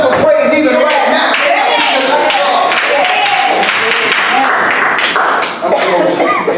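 Audience hand clapping at a sermon, loud and steady across the whole stretch, with crowd voices and an organ or music underneath, dipping briefly near the end.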